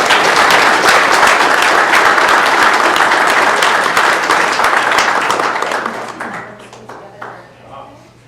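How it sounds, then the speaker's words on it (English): A city council audience gives a big round of applause, with loud, dense clapping from many people that holds for several seconds and then thins out and fades to scattered claps. "if you would give all these folks a big round of applause"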